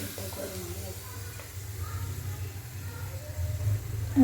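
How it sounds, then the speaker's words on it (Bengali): Spicy Bengali-style kachori frying in hot oil hiss softly and steadily, with someone talking over the quiet sizzle. "দু পিঠ ভালো করে ভেজে নিতে হবে"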